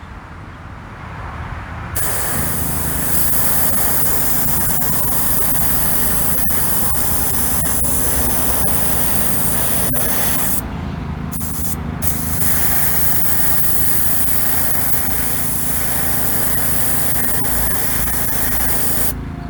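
An airbrush lays a third coat of House of Kolors paint. The spraying hiss is loud and continuous for most of the clip and breaks off briefly twice near the middle.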